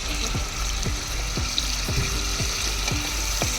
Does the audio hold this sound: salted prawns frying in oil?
yes